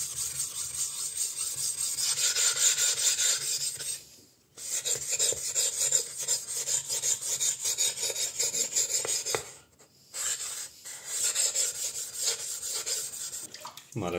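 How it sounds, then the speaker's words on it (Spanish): An usuba knife is rubbed back and forth across a Makita 1000-grit whetstone in long, steady rasping strokes, continuous for several seconds at a time, with two brief pauses between passes. "el siguiente paso será rectificar la Makita grano 1000"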